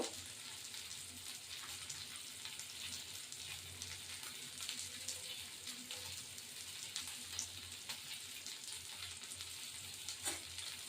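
Chicken rezala sizzles and fries in ghee in a pan, a steady crackling hiss with occasional stirring scrapes, close and fairly quiet with no talking.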